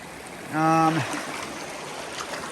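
A continuous soft rush of a flowing creek on the Hayduke Trail runs throughout, with a brief tonal voice-like sound rising over it early on.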